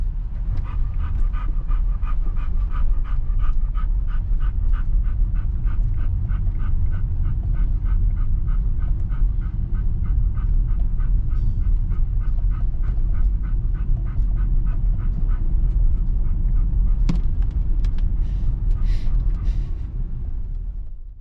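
A dog in a car pants loudly and rhythmically right up close, quick steady breaths running throughout with a brief whimper near the end and no talking.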